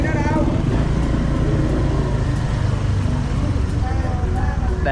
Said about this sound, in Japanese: 今日は胸にカメラを装着してバイクを走らせてみました